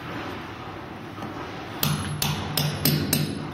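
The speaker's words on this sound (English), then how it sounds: "and hammer it out." A hammer strikes a steel pipe driving a bearing out of a Nami scooter motor, five sharp metallic clanks in quick irregular succession after a quiet stretch of low background hum.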